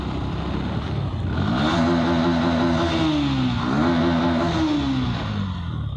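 A motorcycle engine echoing inside a bridge underpass, its steady drone rising and falling as the rider revs, close and loud with a humming, resonant tone and no talking.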